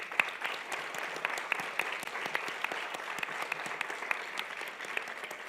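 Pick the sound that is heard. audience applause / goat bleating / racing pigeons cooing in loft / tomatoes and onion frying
audience applause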